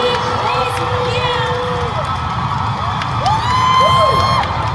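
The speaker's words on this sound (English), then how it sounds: "can you please give him a round of applause?" Concert audience at a fan event in Manila cheering and screaming loudly and continuously, a dense crowd roar with high excited shrieks and whoops rising near the end.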